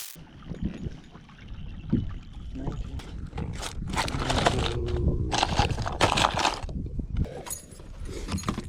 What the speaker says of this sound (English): It is going to take me about 25 minutes to paddle all the way there.